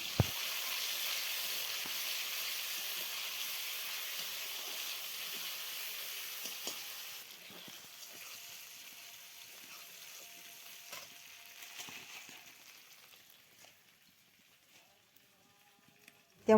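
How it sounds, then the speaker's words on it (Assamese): Chopped onion sizzles in hot mustard oil in a wok, a steady bright hiss that gradually softens as the onion is stirred, with occasional scraping clicks and no talking. "দি অকণমান সময় মই লৰাই পিঁয়াজখিনি ভালকৈ ভাজি ল'ম।"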